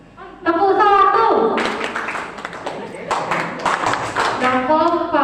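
A classroom group of schoolchildren chants loudly in unison, then breaks into a burst of clapping and tapping, voices continuing over the claps in a lively, busy room.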